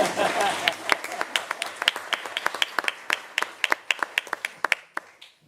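Scattered applause at a city council meeting in Kent, a few hands clapping in uneven bursts that thin out toward the end, fairly close and moderately loud over a faint room background.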